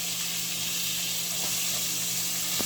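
Koi fish frying in a pan of hot oil, a steady dense sizzle that holds evenly and loud throughout the short stretch.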